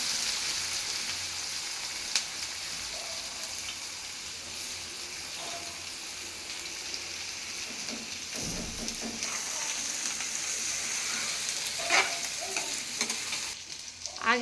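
Onion drops into hot oil in a kadai already holding bay leaf, dry red chilli and cumin, and a steady close sizzle continues with occasional stirring scrapes throughout.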